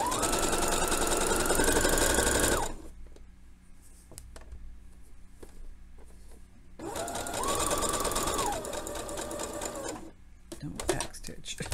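A sewing machine stitches a crotch seam on a garment in two loud bursts of steady whirring, separated by a quieter pause of handling sounds, with a short buzz returning at the end.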